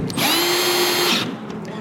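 A power drill runs a single steady burst of about one second, close and loud, driving 7mm bolts that hold the fuel filler neck to the body of a Chevrolet S-10 Blazer.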